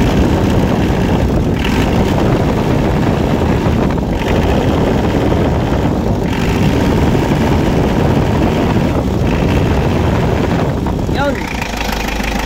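A Mitsubishi 4D56 diesel engine in a Versa Van runs loud and steady throughout, a dense continuous drone with slight pulses, heard up close, with broken intake and exhaust rocker arms.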